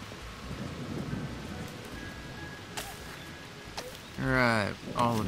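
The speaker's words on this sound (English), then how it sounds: "Hey, it's raining." Rain falls steadily in the Garden Life video game, with sharp thunder cracks near the three and four second marks, then a voice talks over the downpour toward the end.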